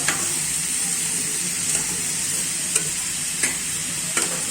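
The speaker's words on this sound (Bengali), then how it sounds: "আপনি ময় মশলাগুলো তরকারির ভিতরে ঢুকে আমি ভালো করে কষিয়ে নিচ্ছি" Spices for a hilsa fish curry with vegetable stems are stirred and fried in a pan: a steady sizzle runs throughout, broken by a few sharp scraping clicks of the spoon, close up with no talk.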